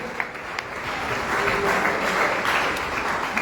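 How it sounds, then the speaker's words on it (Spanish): Steady applause from a church congregation during a Spanish-language sermon, a dense, even wash of clapping that holds at full strength for about three seconds. "Denle fuerte aplauso al Señor Dios."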